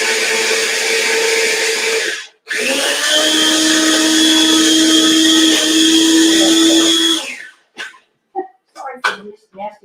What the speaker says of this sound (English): Sorry for this nasty noise, but it's a good noise because it's making the pesto.